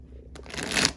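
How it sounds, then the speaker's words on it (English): Tarot cards are riffled and shuffled by hand in one quick, close, crisp burst that builds to a papery flutter, with no talking. "They want me to shuffle a lot"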